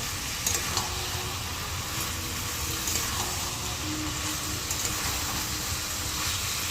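Fried moong dal fritters go one by one into a banana-flower curry, with dense, steady sizzling and frying hiss filling the whole stretch and faint stirring clinks, no voices.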